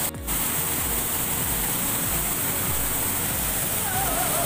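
Water pours steadily at a waterfall beside hot springs in Ngancar village, a dense continuous rushing roar close by.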